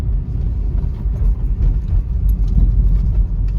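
Car driving uphill on a road in Ranchi, a loud, steady low engine rumble from inside the vehicle with slight surges, no voices.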